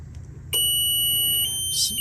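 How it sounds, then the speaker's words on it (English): A timer relay's lockout buzzer switches on abruptly and holds a loud, steady high-pitched electronic tone, continuous and close, after a brief quiet lead-in. "So now you notice that the buzzer stays on"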